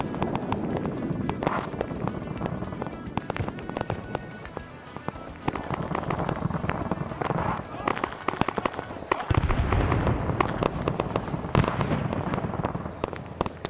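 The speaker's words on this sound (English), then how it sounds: "I'm gonna silence the artillery module for now." Artillery fire in Arma 3 SOG Prairie Fire, a Vietnam War combat game: a dense, continuous barrage of crackling blasts and booms, steady and loud throughout, with voices talking underneath.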